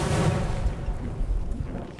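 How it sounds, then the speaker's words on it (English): Dense, continuous rumbling booms with crackling bursts of Russian artillery fire in Ukraine, thudding and echoing at a distance, with no pauses between impacts. "There are explosions and strikes coming from the enemy's side."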